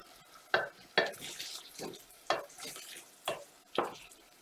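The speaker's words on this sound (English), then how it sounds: "Keep on stirring like that." A spoon works thick ugali in a pot with a steady rhythm of scraping, slapping strokes about every half second, close and fairly soft, with a faint background sizzle.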